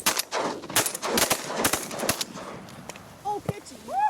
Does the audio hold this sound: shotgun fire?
yes